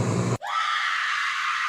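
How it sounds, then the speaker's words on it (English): A sharp, sudden scream cuts in after a brief burst of noise, then holds as a high, sustained shriek. "Scream."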